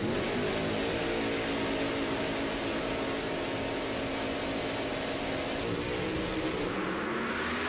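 Top alcohol funny cars make a drag racing run at the NHRA Winternationals in Pomona, a loud, unbroken engine roar that holds at full power for the whole stretch, with no voices.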